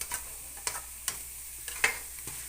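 Duck eggs fry with bamboo shoots in a pan, giving a soft steady sizzle broken by sharp scraping clicks from a spatula about every half second. No voices.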